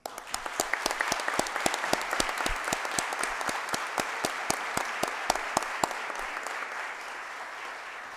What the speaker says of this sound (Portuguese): agradecer com uma forte salva de palmas